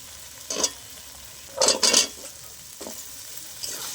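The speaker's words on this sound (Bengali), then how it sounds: "মশলার সাথে আলুটা আর একটু ভালো করে আমি ভেজে কষিয়ে নেব" Chopped potatoes fry with spices in oil in a pan, giving a soft continuous sizzle interrupted by a few short, bright bursts of scraping and tossing as a utensil stirs them close up.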